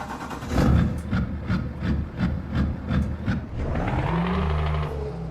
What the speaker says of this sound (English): let's go ahead and start it up. You can hear the engine.